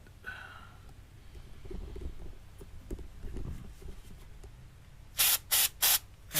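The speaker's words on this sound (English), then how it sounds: "spray a little brake cleaner on here." After some quiet shuffling and clunks, three short, loud bursts of brake cleaner aerosol spray hiss in quick succession close by, during a motorcycle chain and sprocket replacement.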